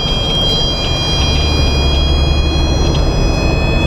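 A Kustom Pro 1000 DS police radar gun gives a faint, steady electronic whine inside a patrol car. It sits under loud, continuous road and engine rumble from driving traffic, with no one speaking.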